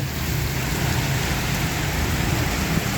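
Rain falls over Surin town in a depression storm, a steady, even hiss of drops with a low rumbling undertone, constant and unbroken throughout.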